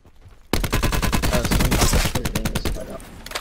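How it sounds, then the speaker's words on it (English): Rapid automatic gunfire in Call of Duty Black Ops 4 Blackout, a loud close burst of evenly spaced shots that starts abruptly and runs for about three seconds. "He keeps shooting at me."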